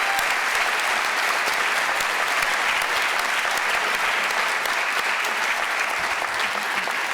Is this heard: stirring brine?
no